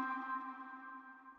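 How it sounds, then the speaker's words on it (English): A music synth stab trails off into a short ping-pong delay echo, a sustained tonal tail that fades gradually and stays faint, with no voices. "when the stab stops, you of course hear the delay"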